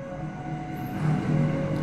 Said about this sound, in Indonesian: Oh kereta tuh.